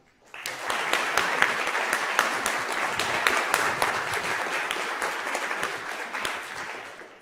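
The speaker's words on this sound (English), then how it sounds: "I would start with a round of applause." Audience applause at a university speaker series talk, many people clapping together with some sharp individual claps standing out, rising quickly, holding steady for several seconds and tapering off.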